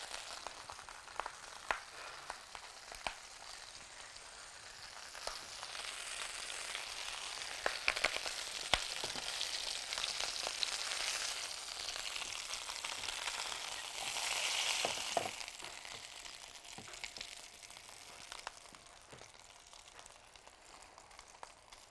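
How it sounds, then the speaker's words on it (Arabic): Lamb shank browning in a pan, a steady hiss and crackle of hot oil with scattered pops and occasional stirring clicks, close and moderately quiet, rising briefly in intensity partway through. "الموزه بتاعتنا خلاص قربت تحمر اهي"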